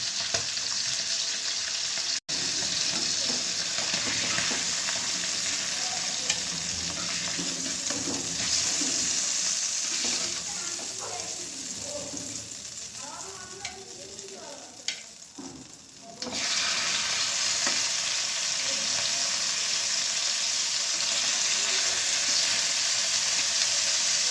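Tengra fish fry in hot oil with a pinch of salt, a loud continuous sizzle that fades briefly in the middle before surging back strongly.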